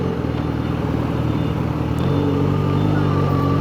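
Steady engine drone and road noise from busy, congested traffic, heard while riding a Kawasaki motorcycle such as a ZH2 or Z1000R; dense, continuous rumble that swells slightly louder partway through, no talking.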